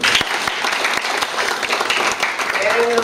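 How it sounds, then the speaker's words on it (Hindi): An audience at a distributor business workshop claps loudly and steadily, a close, dense burst of applause lasting a few seconds with a voice breaking in near the end. "ताली बजाओ।"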